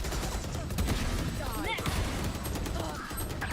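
Gunfire in a professional Valorant esports match, with rapid bursts of shots and crackling impacts in a busy, dense game mix under constant background noise.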